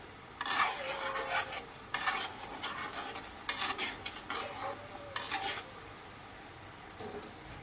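Kodubale snacks fry in oil over a low flame while being stirred, with repeated scraping strokes of a utensil against the pan at a steady pace over a faint sizzle.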